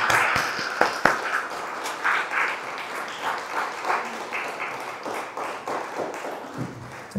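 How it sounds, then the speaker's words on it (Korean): A church congregation at a Sunday afternoon service gives applause of praise, a sustained patter of many hands with some sharper close claps early on, fading slightly as it continues without talk. "영광의 박수 드리겠습니다."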